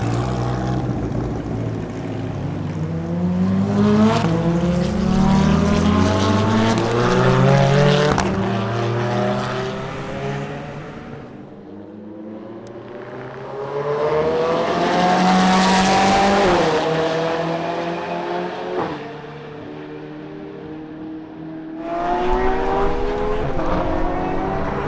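A car with a 5.9 liter twin-turbo flat-plane-crank V8 mounted behind the driver screams around a racetrack, engine note climbing through repeated upshifts, swelling past loudly and fading between runs, with no talk.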